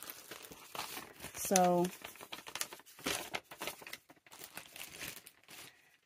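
Paper envelopes are emptied and handled for a collage junk journal, giving crinkling, rustling bursts that come and go beside a person talking.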